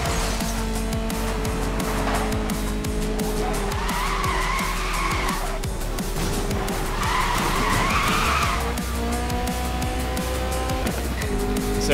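An Alfa Romeo 4C Concept drifting in Need for Speed: Most Wanted (2012) has its engine droning and shifting pitch while repeated long tyre squeals and skids rise and fade over twelve seconds, loud and close.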